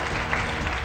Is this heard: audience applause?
yes